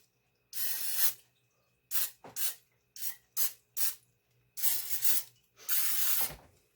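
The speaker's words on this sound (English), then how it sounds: "So I'm just going to spray." Several hissing bursts of aerosol cooking spray onto a muffin tin: two long sprays, then a series of short quick puffs, then two more long sprays, close up with no talking.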